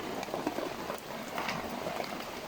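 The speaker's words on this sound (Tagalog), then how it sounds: "Biglang lumuhos yung malakas na ulan, guys." Heavy rain pours down outdoors under a tree, a dense, steady wash of drops close by with scattered louder splatters and no talking.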